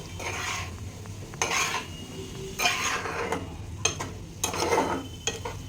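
Metal spoon scraping and clattering against a pan as diced potatoes and vegetables are stirred dry with no oil, in irregular bursts of scraping close by, with no talking.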